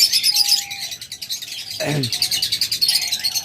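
Pet lovebirds, budgerigars and cockatiels kept for sale chirp and tweet in a dense, continuous chorus, with a few thin whistled calls and a brief lower squawk midway.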